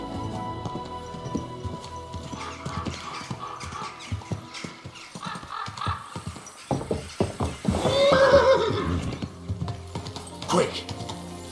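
A horse in the video game Kingdom Come Deliverance II whinnies loudly near the middle, amid clip-clopping hooves and clattering tack, with someone talking now and then.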